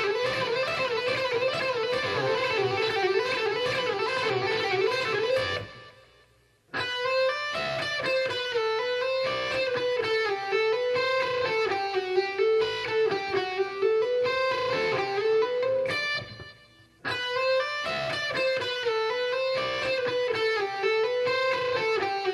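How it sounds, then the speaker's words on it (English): Electric guitar lick built on barring within a diatonic scale, in a high-tech rock style, played as fast continuous runs with two brief pauses, clear and steady throughout. "a little bit of barring, only in more of a regular diatonic scale type of an approach, and that lick would sound like this"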